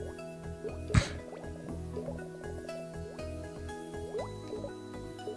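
A mermaid swims underwater in the video game Shantae Risky's Revenge, with steady bubbly, dripping water effects over a low droning game background and one sharp splash-like hit near the start.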